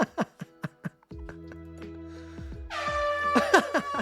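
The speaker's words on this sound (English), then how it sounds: "Air horn." An air horn sound effect played on a livestream blares in loud and sustained near the end, after a few short sharp bursts of laughter-like sound.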